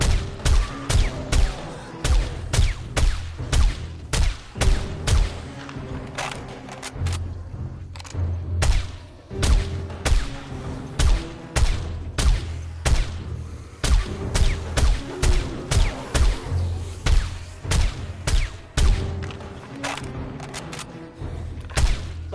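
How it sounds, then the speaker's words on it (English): Sniper rifle gunfire in the game 7 Days to Die on PS5, a long run of heavy booming shots in quick irregular succession, loud and close, with little else between them. "Sniper rifle putting the work in though"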